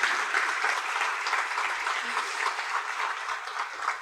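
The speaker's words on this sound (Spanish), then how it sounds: "Ahí aplaudimos." An audience claps after a talk at an academic presentation, steady sustained applause of many hands throughout, moderately distant, with no one speaking.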